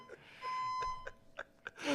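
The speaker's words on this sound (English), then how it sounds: "we have had this fire alarm go off, what, 2-3 times in the run of this show" A fire alarm sounding inside a sports talk-show studio gives a steady high electronic tone and intermittent beeps, punctuated by short breaths and gasps of the people nearby.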